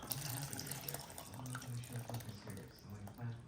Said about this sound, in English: Here I will go ahead and add the tamarind pulp.